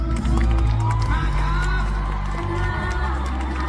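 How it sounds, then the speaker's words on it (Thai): A large crowd cheers and claps steadily, a loud continuous roar with scattered whoops and shouts throughout. "ขอเสียงปรบมือให้กับน้องๆทั้ง10คนอีกครั้งครับ"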